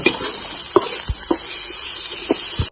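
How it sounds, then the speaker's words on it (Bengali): Salted raw potato pieces fry in oil in a pan, a light sizzle punctuated by a few sharp stirring clinks and scrapes, close and fairly quiet, without voices. "আলুগুলোকে ভালোভাবে ভেজে নেব।"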